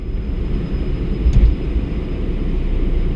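A Citation CJ1+ jet taking off and climbing steeply, a steady loud engine roar with a thin high whine, heard from inside the cockpit with no talk.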